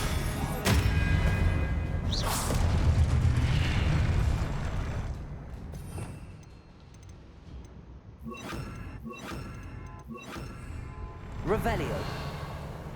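Expelliarmus and other spells are cast during a fight in the video game Hogwarts Legacy, sharp bursts and booming magical impacts standing out against a rumbling background, with a voice talking over parts of the action.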